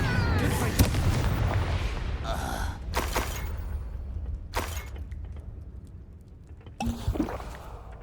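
Confringo blasting spell explosions in the video game Hogwarts Legacy: a string of loud booming bursts and crackling impacts, one every second or so, over a dense rumbling battle bed, with character shouts and gasps mixed in.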